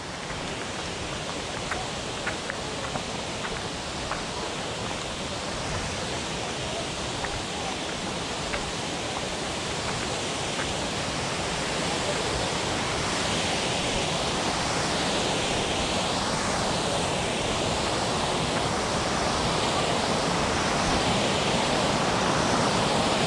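A waterfall roars in a steady, dense rush of falling water that fills the whole stretch, loud and unbroken, growing slightly stronger toward the end with no voices heard.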